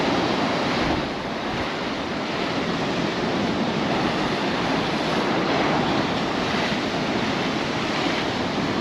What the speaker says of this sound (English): It's pretty rough and there's pretty big waves there.